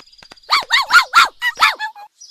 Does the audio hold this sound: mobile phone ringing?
no